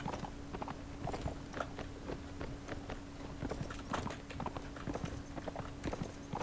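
Hoofbeats from a white lion mount in the Warsword Conquest game clop in a quick, even rhythm, close and steady, with no talking over them.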